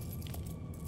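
Keys jangle in the video game Murdered: Soul Suspect, a short close metallic rattle lasting under a second over a low rumbling background.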